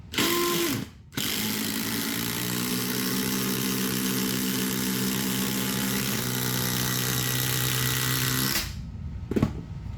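DeWalt XR and Milwaukee Fuel impact drivers running side by side in a drag race, a loud, steady motor whine and hum lasting several seconds before cutting off, close and without talk.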